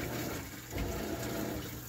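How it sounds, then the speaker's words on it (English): Maytag top-loading washing machine without an agitator, set on medium, filling with water as it jerks the clothes around, giving a steady rushing, gushing wash of water at moderate level with no talk. "Still pouring water in there, but it's jerking the clothes around."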